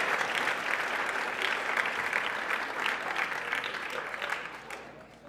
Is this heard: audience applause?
yes